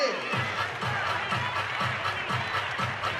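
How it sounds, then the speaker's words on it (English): A volleyball arena crowd at a pro match between the Columbus Fury and the Grand Rapids Rise claps in a steady, rhythmic beat, loud and continuous, over a dense roar of crowd noise. "Everybody clap your hands"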